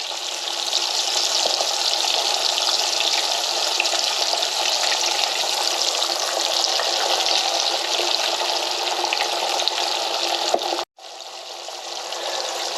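Whole bluegill panfish frying in a pan, a loud continuous crackling sizzle that stays steady, broken by a short sudden gap before resuming.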